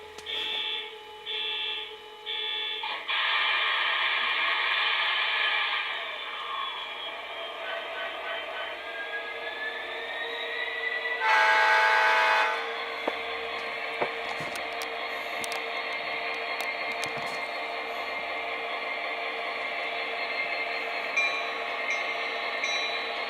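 An MTH SD70M-2 Norfolk Southern model diesel locomotive's Proto 3 electronic sound system plays a droning engine hum with a horn-like blast partway through, steady and fairly loud, no talking.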